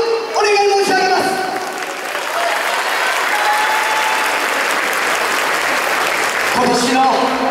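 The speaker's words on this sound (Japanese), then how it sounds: "どうぞ声援よろしくお願い申し上げます" Loud, dense applause and cheering from a festival crowd at a YOSAKOI dance performance, sustained for several seconds, with voices calling out at the start and end.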